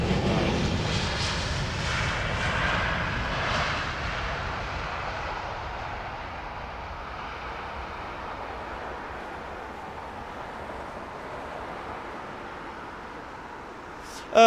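A Boeing 787 at Heathrow Airport gives a loud jet roar that fades slowly as the aircraft passes and draws away, ending in a brief sharp sound.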